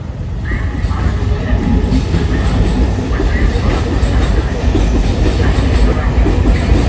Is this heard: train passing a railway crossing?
yes